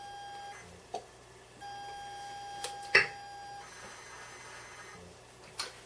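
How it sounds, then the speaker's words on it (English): Sinclair ZX Spectrum loading the game Invasion of the Cloud People from a cassette: short steady electronic beep tones switching on and off, with a few sharp clicks, fairly quiet. "After the beep sound, select cldpeop1.tap, which is the Cloud People game, from your storage device"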